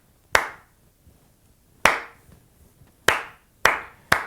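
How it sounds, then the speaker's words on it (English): A single person claps their hands sharply five times at uneven intervals, each clap crisp and close with a short decay and quiet gaps between. "This is me doing a Lucas clap for Seattle."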